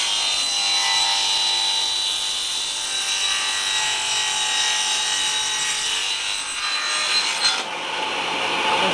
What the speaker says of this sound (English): You just keep running them through and you saw off the whole block.